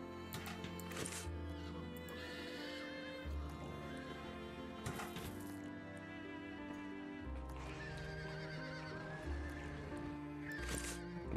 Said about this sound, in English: Why are these horses making all sorts of noises?